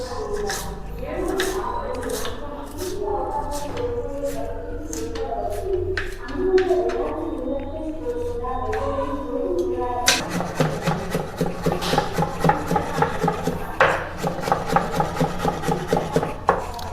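Knife chopping ginger and garlic finely on a board for chilli paneer, a steady rasping scrape at first, then brisk rapid chops in an uneven rhythm, close and fairly loud.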